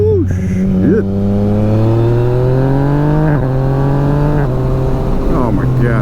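A Yamaha MT-09 motorcycle pulls hard, its engine note climbing steadily through a couple of quick gear changes. The loud, close exhaust runs continuously throughout, with the rider's voice briefly audible over it.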